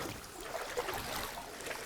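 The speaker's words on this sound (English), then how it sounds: "So if you put the paddle a bit deeper in the water." A canoe being paddled on a Scottish loch, soft watery swishes and faint splashes of the paddle drawing through the water, quiet and close with outdoor ambience.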